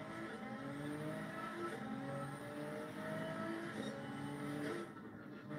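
A race car laps a track in a racing video game driven with a steering wheel, its engine droning steadily and rising and falling through gear changes, with occasional tire squeal, loud and continuous throughout.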